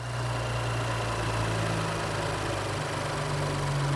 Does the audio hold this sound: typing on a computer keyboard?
no